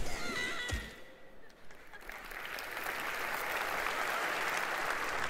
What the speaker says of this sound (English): And why are they clapping so much at that?